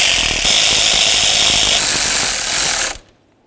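A loud pneumatic impact wrench close by snugs nuts onto bracket studs while a throttle position sensor is replaced on a 1994-2004 Chevy S-10, hammering steadily for about three seconds before stopping abruptly.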